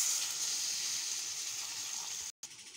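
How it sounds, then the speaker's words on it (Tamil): Water is poured into a pot of potato kurma on a stove, a steady splashing hiss that stops briefly near the end and then resumes faintly. "இப்போ தேவையான அளவு தண்ணி ஊற்ற போகிறோம்."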